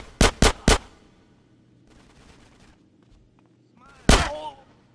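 Gunfire in GTA San Andreas Definitive Edition: three sharp shots in quick succession, then a lull filled with faint background noise, and one more loud shot near the end with a ringing tail.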